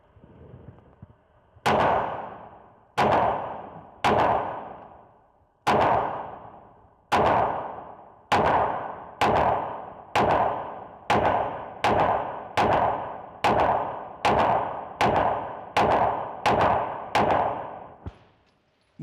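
A new Oracle Arms 2311 pistol fires its first magazine during break-in: about fifteen sharp, close, loud shots in a steady rhythm, each ringing briefly before the next, with no talking.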